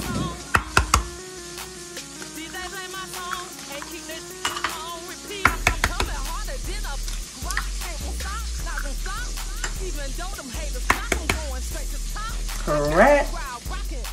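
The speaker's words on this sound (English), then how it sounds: "Just crack your eggs in a bowl." Eggs being cracked into a bowl in a home kitchen for scrambled eggs, with sharp taps and clicks of shells against the rim, scattered clatter of dishes, and a person talking throughout.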